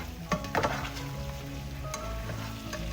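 Garlic butter shrimp with lemon juice sizzles and fries in a pan while being stirred, with scraping knocks early on over a continuous crackle and faint tonal sounds in the background.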